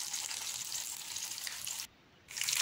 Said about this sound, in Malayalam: പാൻ അടുപ്പത്ത് വെച്ചിട്ട് ഓയിൽ ഒഴിച്ച ശേഷം നമ്മൾ എടുത്ത് വെച്ചിട്ടുള്ള ചിക്കൻ വറുത്തെടുക്കുക